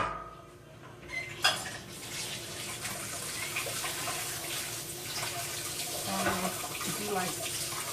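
Tap water runs steadily into a kitchen sink as dirty dishes are rinsed, with faint clinks of plates and cutlery under the rushing flow and a sharp knock early on.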